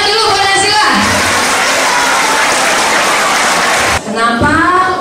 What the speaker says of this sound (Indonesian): Tepuk tangan dulu buat Naisila.